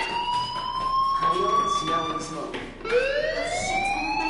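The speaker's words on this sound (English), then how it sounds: "Hey, do you hear that fire alarm?" A fire alarm rings in the Life is Strange video game, a loud, steady electronic tone with sliding pitches that holds throughout, dips briefly and then rises again, with some voices faintly beneath it.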